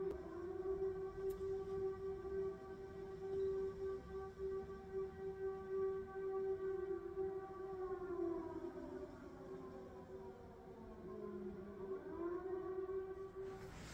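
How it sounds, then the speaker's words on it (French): Long wavering wail of a civil-defense-style siren, rising and falling in pitch as it sweeps, fairly distant and steady for the full length, with no voices. "Les sirènes comme ça, pour moi, c'est quand il y a un danger"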